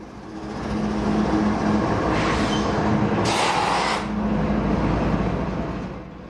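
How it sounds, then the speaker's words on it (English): Freight train hauled by four coupled diesel-electric locomotives and cars carrying wood products in Oregon, a steady loud rumble with low engine drone and brief hissing bursts, no voices. "These diesel-electric locomotives are hitched together. This train requires 4 locomotives."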